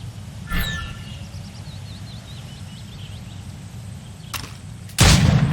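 Gunshots at targets in the Assassin's Creed Rogue video game, two or three sharp cracks spaced out over ambient birdsong, with a louder booming shot near the end.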